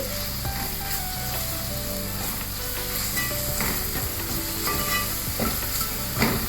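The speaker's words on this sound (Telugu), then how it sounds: "ఇప్పుడు అన్నీ కూడా కలిసేంత వరకు ఇలా కలిపేసుకుని" Fried onions with spices being stirred in a pan for chana dal masala curry, steady sizzling with repeated scraping and clattering strokes of a spoon against the metal, close and busy.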